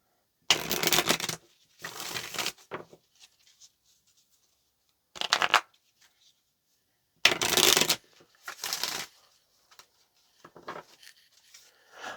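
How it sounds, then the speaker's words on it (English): A deck of tarot cards being shuffled close by in several short bursts of riffling and sliding, separated by quiet pauses, with softer handling rustles between. "let's make this our last shuffle"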